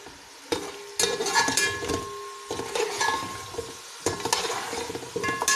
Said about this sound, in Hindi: उनको अच्छी तरह मसाले के साथ भुनेंगे।